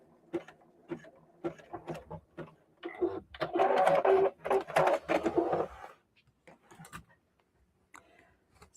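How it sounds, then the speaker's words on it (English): A sewing machine zigzag-stitches a shirring elastic waistband on a skirt, with short mechanical bursts at first, then a sustained rattling run of stitching and a few closing clicks, close and clear. "just going to use a zigzag stitch to do that. And I'll go back over it again."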